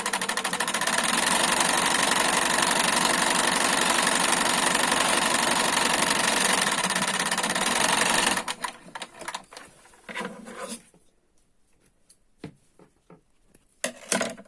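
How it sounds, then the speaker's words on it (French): A sewing machine sews a zigzag stitch, loud and continuous for about eight seconds, then stops and starts in short bursts followed by quiet handling noises. "Alors, on fait un point zigzag"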